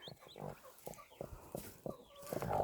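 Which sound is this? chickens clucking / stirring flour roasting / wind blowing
chickens clucking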